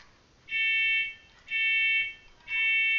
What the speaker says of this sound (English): Uh-oh, fire alarm.